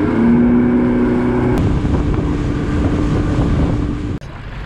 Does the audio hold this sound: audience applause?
no